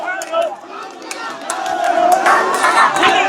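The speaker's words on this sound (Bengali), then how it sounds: "তারা বিভিন্ন ধরনের স্লোগান দিয়ে যাচ্ছেন। আমরা একটু শুনবো।" A crowd of political supporters chants slogans together at a rally for Tarique Rahman, loud rhythmic massed voices rising in intensity toward the end.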